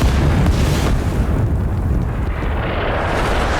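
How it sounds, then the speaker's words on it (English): Artillery explosions from Vietnamese forces in the video game Rising Storm 2: Vietnam, played on a US M60 gunner, form a loud, continuous rumbling barrage of deep booms with no talk over it. "I hear Vietnamese artillery."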